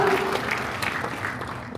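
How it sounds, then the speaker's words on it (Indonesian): A church congregation applauds together in a short burst of dense clapping that fills the room, with a faint voice underneath. "Berikan tepuk tangan bagi Tuhan Yesus."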